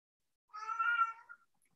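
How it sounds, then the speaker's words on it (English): A pet cat meows close by indoors in one drawn-out, clear call lasting under a second, standing alone against otherwise quiet surroundings. "Oh, my cat's participating now."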